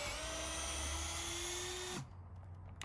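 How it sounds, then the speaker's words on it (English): Power drill boring a hole while building a backyard batting cage, a loud steady whine rising slightly in pitch for about two seconds before the motor abruptly winds down and stops. "I'm about to drill about right here."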